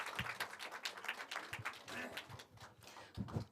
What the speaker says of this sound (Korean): 큰 박수로 발표를 시작하겠습니다